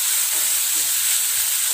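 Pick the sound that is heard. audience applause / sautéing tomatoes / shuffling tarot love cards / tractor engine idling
sautéing tomatoes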